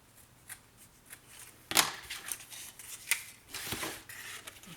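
Scissors snip through scrapbooking paper during a card-making craft session, a few quiet crisp cuts at close range with light rustling between them and no talking.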